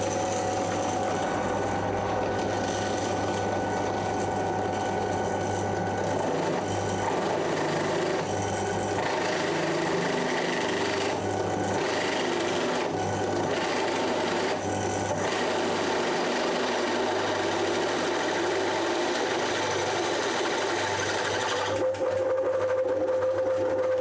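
A Ryobi RDP 102L drill press runs with a steady motor hum and a grinding, rasping cut as the bit works through material, the drive belt slipping near the end; loud and close, no talking.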